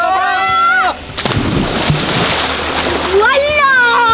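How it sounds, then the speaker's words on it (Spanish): A wave of swimming pool water washes over a floating food tray holding potato chips, a loud, broad splashing rush lasting a few seconds, with excited voices before and after. "¡Viene la ola!"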